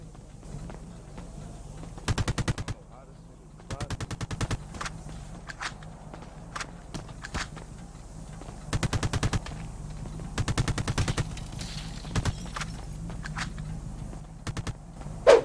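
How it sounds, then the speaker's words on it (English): Bursts of automatic gunfire in the GTA roleplay game come in rapid clusters of sharp cracks, some close and loud, others shorter, separated by quieter gaps with faint footsteps and no talk. "niggas are shooting"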